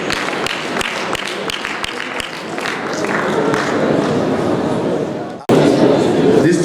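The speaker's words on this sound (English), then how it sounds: "Please, let's give him a round of applause while we wait to hear from him." Audience applause fills a conference hall, a dense steady clatter of many hands with crowd murmur mixed in, swelling louder near the end.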